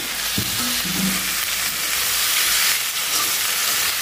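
Potato bhaji frying in a pan, a loud, steady close-up sizzle and hiss throughout with a brief soft clink near the start.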